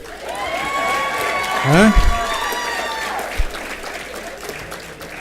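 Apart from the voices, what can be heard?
audience applause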